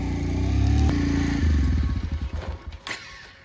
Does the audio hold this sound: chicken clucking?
no